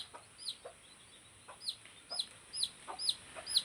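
Chickens cluck and squawk in short, clipped bursts, several calls close together and growing more frequent, over a quiet outdoor background.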